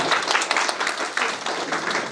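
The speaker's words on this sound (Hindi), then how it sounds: "जोरदार तालियों से हम" An audience at a college economics seminar claps steadily after a ceremonial lamp lighting, brisk dense applause filling the short span without speech.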